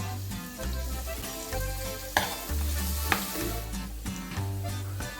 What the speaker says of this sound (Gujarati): હવે આપણી ડુંગળી એકદમ સાંતળાઈ ગઈ છે